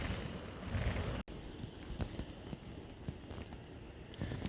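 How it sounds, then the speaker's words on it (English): Strong wind roars and buffets steadily across the whole stretch, with gusty rumbling noise and no voices. "the wind was so strong that it was pushing me"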